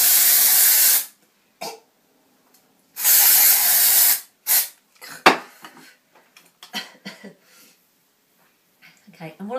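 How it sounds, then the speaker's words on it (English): Dry shampoo sprayed onto hair in two long, close hissing bursts, followed by softer rustling and light handling noises. "don't spray too closely because it can end up staying white in your hair"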